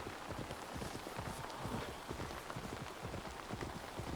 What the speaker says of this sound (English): Wish it would stop raining constantly all the time, though.